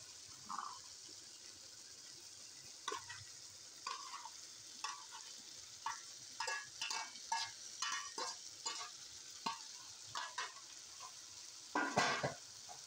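Fried okra and a few tomatoes are stirred into sizzling, well-browned mutton curry. A spoon scrapes and turns in short repeated strokes over a steady close frying sizzle, with a louder clatter near the end.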